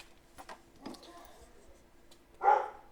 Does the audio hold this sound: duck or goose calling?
no